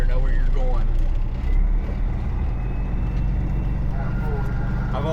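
A Freightliner FLD 120 truck engine runs steadily up close in low-range reverse, a deep continuous diesel rumble with a rough, throbbing low end that holds at an even level throughout.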